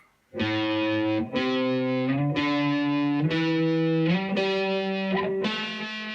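An electric guitar with heavy distortion climbs a pentatonic scale along one string, six sustained notes picked in steady succession, each ringing fully before the next, loud and close with no talking.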